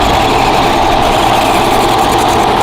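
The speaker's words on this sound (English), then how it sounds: "Oh, I do see a train going by." Model train, a Santa Fe freight hauling logs, running through a train set at the Living Desert Zoo and Gardens: a loud, steady whirring rumble that holds evenly throughout with no pauses.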